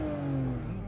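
BMW 5 Series with about 44,000 km on it revving its engine, a smooth rising and falling mid-pitched rev heard close and steady with no talking.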